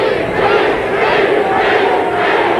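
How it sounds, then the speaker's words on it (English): Boxing crowd in a Sacramento arena roaring steadily during a fight, a dense, continuous wall of cheering and shouting that stays loud throughout without pause. "You can hear that crowd from Sacramento roaring in the background."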